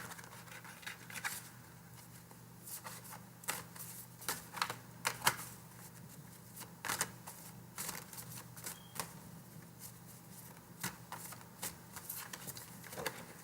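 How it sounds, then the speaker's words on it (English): Soft, irregular papery flicks and taps of cards being shuffled, close and quiet, over a low steady hum. "It's waiting for me to shuffle to the right card."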